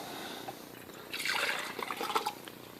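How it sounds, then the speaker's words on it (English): Drink pours into a Stanley canteen cup outdoors, a soft splashing trickle of liquid that swells for a second or two and then tapers off, fairly quiet, with no talk. "Pour my drinks in here."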